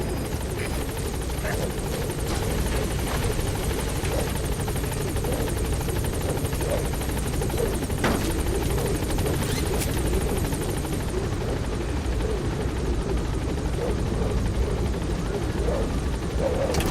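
The Pequod helicopter in Metal Gear Solid V: The Phantom Pain gives a loud, continuous rotor drone and whine that holds steady throughout, with faint radio-style voices at times.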